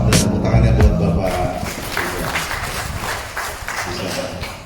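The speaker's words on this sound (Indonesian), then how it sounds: "tepuk tangannya buat Bapak" An audience claps for the Deputy Governor at an internal gathering of the Gerindra party's DKI Jakarta chapter: a dense, steady wash of applause carried on for several seconds, preceded by a brief louder burst of crowd noise.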